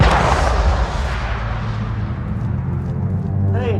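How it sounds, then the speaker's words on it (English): Distant gunshot in a video game sounds as a deep, booming report followed by a long rumbling decay, with a faint voice-like sound near the end. "Hey, did anybody else hear like a gunshot?"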